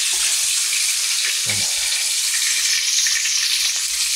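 Fish fries in a pan at home, a loud, steady broadband sizzle crackling continuously up close, with a brief soft clatter midway.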